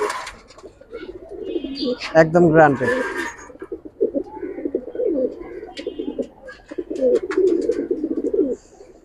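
Giribaz pigeons in a loft give soft, repeated throaty coos and burbling calls close by, broken by a brief flutter of sharper sound, while someone talks over them.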